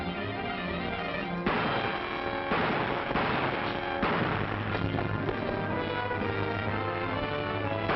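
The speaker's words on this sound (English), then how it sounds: "Gunshots!" A burst of gunfire in a 1944 film: a rapid series of loud, sharp shots over a dense, cluttered old soundtrack, with the shots continuing through the whole stretch.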